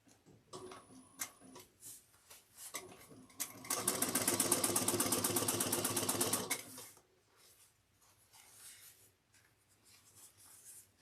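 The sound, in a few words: sewing machine topstitching backpack seam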